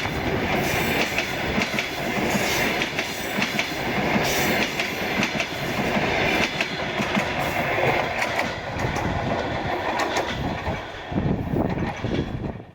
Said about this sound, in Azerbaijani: qatar.